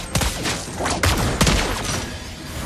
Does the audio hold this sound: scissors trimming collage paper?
no